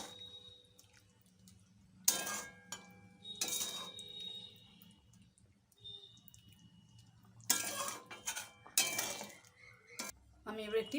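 Fried onions stirred into thick paneer korma gravy in a pot, with intermittent scraping and clinking of a spoon against the pot in short bursts, fairly near, between quieter pauses.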